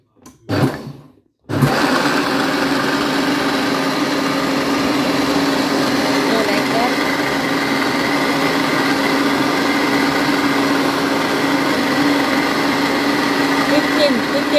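A Vorwerk kitchen machine on turbo blends fruit and vegetables into a smoothie, a steady loud motor whir droning without pause after a brief start.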